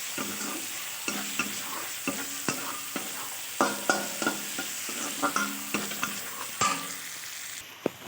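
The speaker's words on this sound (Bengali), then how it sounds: "পেঁয়াজটা একটু নেড়ে চেড়ে ভেজে নেব।" Chopped onion fries in hot oil under a constant sizzle while a spatula scrapes and stirs it in a steady rhythm, about one stroke a second, up close.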